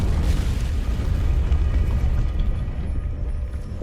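An Incendio fire spell in Hogwarts Legacy lets out a sustained, roaring whoosh of flame, loud and close from the start, easing slightly toward the end with no voices.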